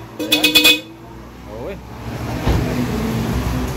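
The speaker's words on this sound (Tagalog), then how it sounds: "Titesting muna yung busina." Horn on a Toyota Avanza tested after repair in a roadside shop, several quick loud toots in a burst, followed by faint traffic and a nearby voice.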